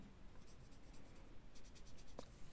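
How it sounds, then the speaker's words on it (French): Coloring in a bullet journal with a pen or marker: continuous faint scratching strokes on paper, with a quicker run of short back-and-forth strokes near the end, close and quiet. "Je vais tous les colorier en fait."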